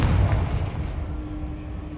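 A Confringo blasting spell explosion in Hogwarts Legacy, a single loud booming blast at the start that rolls off into a fading rumble.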